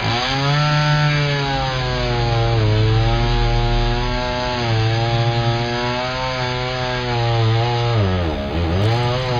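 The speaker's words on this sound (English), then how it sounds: "Sadly, the chainsaws have been active too in the Chiltern Park area" A chainsaw cuts trees in the Chiltern Park area of Thornbury, Bristol, its engine droning loud and close with steady pitch shifts as the blade bites into wood, rising and falling throughout.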